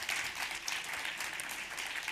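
Audience applause at an event recording, steady dense clapping from a room of people, fairly faint and continuous throughout.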